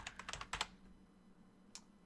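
A run of quick keystrokes on a computer keyboard while an email address is typed, several close clicks in the first half-second, then quiet with one more tap near the end.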